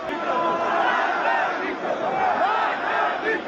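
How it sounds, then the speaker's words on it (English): Angry crowd chanting slogans at a funeral in Iran, a dense mass of raised voices shouting together in rhythmic waves, loud and close for the whole stretch. "The angry crowd answered the official slogans with their own"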